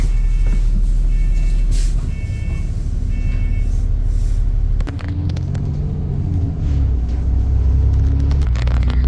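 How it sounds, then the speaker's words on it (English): A London double-decker bus on route 150 pulls away, its engine rumbling loudly and shifting in pitch as it gets moving, with short electronic beeps early on and no voices. "We finally started our journey on this bus"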